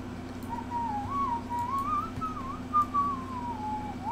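A person whistling a slow, wavering tune, clear and fairly close, drifting up and down in pitch over a quiet background hum with a few soft taps.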